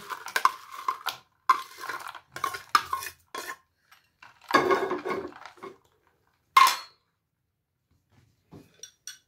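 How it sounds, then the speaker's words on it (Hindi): Ice goes into a jaggery sharbat with black salt, making a run of clinks and knocks from cubes and a spoon against a glass or pot. The bursts are irregular, close and fairly loud, with quiet gaps between them. "अभी आइस की बर्फ भी हम ऐड कर देंगे"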